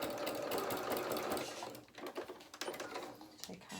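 A sewing machine runs fast in a steady whirring buzz while stitching the end of a hem, then slows into short uneven bursts as it reverses, close and alone.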